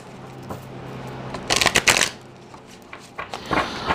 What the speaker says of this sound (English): I've shuffled the cards